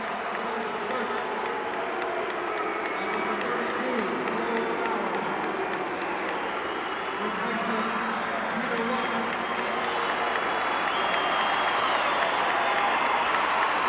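Basketball fans in a gym at a 1984 high school boys playoff game applaud as starters are brought to the bench one by one, a steady, dense wash of crowd clapping and murmur filling the whole stretch with voices mixed in.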